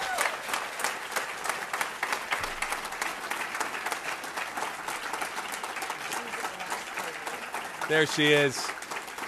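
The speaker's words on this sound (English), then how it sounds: "Please give a giant round of applause to Impact Award recipient and team captain of Badass Coffee, Ann Hoffman." An audience at a National MS Society chapter celebration applauds an award recipient with dense, continuous clapping, and a voice speaks briefly over it near the end.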